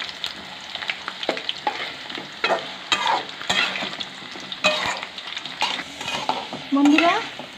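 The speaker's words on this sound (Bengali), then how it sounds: "আলু লাল লাল করে ভেজে নিতে হবে আলুর দমের জন্য।" Potatoes fry in oil for aloo dum, a constant sizzle broken by repeated scraping strokes of a spatula stirring the pan, close and fairly loud, with no talk.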